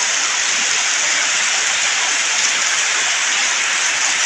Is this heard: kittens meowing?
no